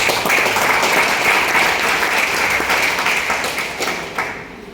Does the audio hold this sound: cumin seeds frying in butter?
no